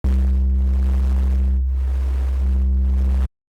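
Noise bass run through a Trash 2 tube driver distortion with the drive turned low, giving a subtle buzz. A loud, sustained low drone hums steadily, dips briefly in the middle, then stops abruptly.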